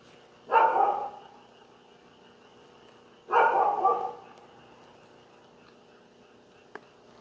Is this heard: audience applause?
no